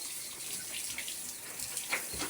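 Water runs steadily from a hose or tap while pigs are bathed on a farm, a moderate continuous splashing hiss with occasional brighter spatters.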